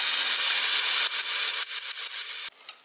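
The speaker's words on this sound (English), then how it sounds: "So I'm going to go ahead and drill this out" A power drill bores out a moped headlight mount to take an M6 rivet nut, giving a steady, close grinding whir for about two and a half seconds before it cuts off, followed by a brief clatter.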